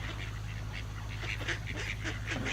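Mallard ducks, drakes and young birds among them, quack and honk in a loose overlapping chorus at moderate distance over steady low background rumble, with no talk.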